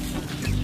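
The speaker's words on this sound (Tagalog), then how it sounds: "ito po yung ating mga broiler na inalaga ng mga manok" Broiler chickens about 45 days old cluck in a coop on a Filipino farm, a dense, steady low flock murmur at close range with no talk.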